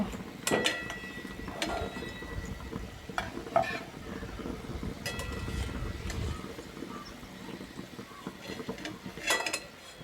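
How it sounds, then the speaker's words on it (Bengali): Litti dumplings fry over low heat in a pan: a soft, low sizzle runs underneath while a utensil clinks and scrapes against the pan several times, fairly quiet and without speech. "এগুলোকে ভেজে নিতে হবে তা না হলে উপর থেকে পুড়ে যাবে আর ভিতর থেকে কিন্তু কাঁচা থেকে যাবে"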